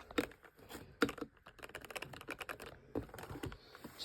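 A new computer is unpacked from its plastic wrapping, giving close crinkling, rustling and sharp clicking sounds in irregular bursts with brief pauses between them.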